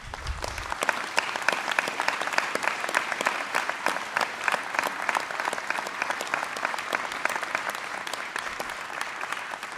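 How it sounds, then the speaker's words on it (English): A graduation-ceremony audience gives a sustained round of applause for the graduates' supporters, a thick, continuous patter of many hands that stays loud and even for about ten seconds. "give you a round of applause if you could please"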